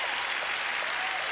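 A crowd at a 1995 women's tennis match applauds in a steady, even wash of many hands clapping, at moderate distance and without pause.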